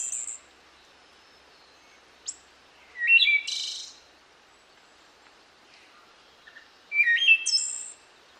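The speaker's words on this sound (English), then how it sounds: "That's the wood thrush." Two separate bursts of fluting, echoing wood thrush song with quiet gaps between, ending in high trills, clear against an otherwise still background.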